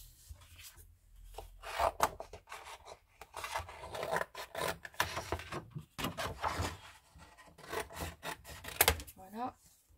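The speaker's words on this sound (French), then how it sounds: "Je viens découper." Craft material is cut by hand in a series of close, rhythmic rasping and scraping strokes with short pauses, with faint talking now and then.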